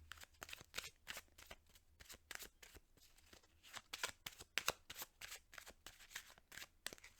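A deck of Lenormand cards is shuffled quietly, a steady run of soft riffling flicks and taps close by.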